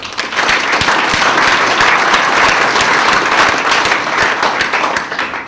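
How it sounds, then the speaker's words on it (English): Loud, sustained applause from a large crowd at a keynote speech, thanking Microsoft, many hands clapping together for several seconds before tapering off slightly at the end. "Can we have a round of applause to Microsoft?"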